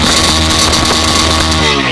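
A Bajaj Pulsar N125 motorcycle's 125cc engine revs repeatedly in neutral, loud and close, the throttle blips rising and falling in quick succession.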